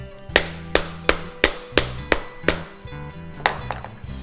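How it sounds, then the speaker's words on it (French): Wooden mallet tapping a wooden wedge to drive a Japanese knife's handle off its tang, about ten sharp, evenly paced knocks close up, slightly quicker toward the end, over a low steady hum. "je prends le maillet et je vais taper ici sur la cale en bois"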